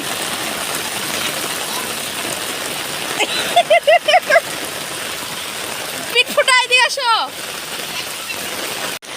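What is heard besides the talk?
heavy rain falling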